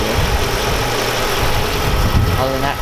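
A Mercedes-Benz W140 400SEL engine idles smoothly and steadily at close range, a low continuous hum with faint mechanical hiss throughout, a voice occasionally speaking over it.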